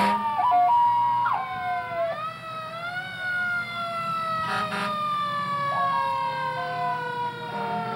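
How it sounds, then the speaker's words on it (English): Several emergency sirens wail at a December 1994 winter street parade in Peekskill, New York, for Governor George Pataki, loud and close, their rising and falling tones overlapping continuously with a brief burst of horn blasts partway through. "these sirens are there to alert people in the event of emergency"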